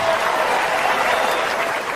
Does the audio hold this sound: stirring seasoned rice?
no